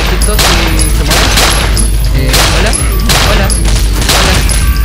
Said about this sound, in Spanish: Les disparo así como dispararle a estos muchos amiguitos y se mueren.